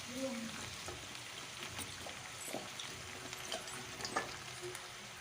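Pumpkin pieces frying in hot oil for a vegetarian pumpkin chhakka give a steady soft sizzle with occasional stirring scrapes, moderately loud throughout.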